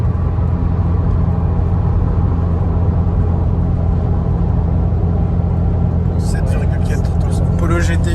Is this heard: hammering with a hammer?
no